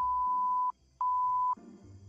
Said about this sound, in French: La machine à bip a beaucoup servi.